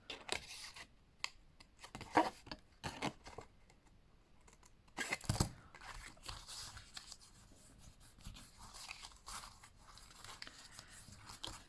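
Scissors snip into the paper tabs of a Cricut-cut explosion box, giving a few short crisp cuts mixed with light paper rustling and handling, close and fairly quiet.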